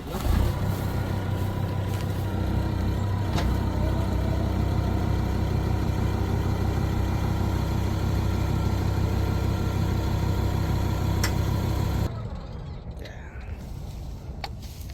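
A tractor engine runs at idle nearby, giving a loud, steady mid-pitched rumble under people talking. It drops to a quieter level in the last few seconds.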